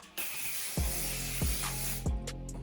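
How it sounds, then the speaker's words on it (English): Sebastian Shaper Plus hairspray sprayed from an aerosol can in a sustained, close hiss, with three soft thumps of the can being handled partway through. "So I use the Sebastian Sharper Plus hairspray."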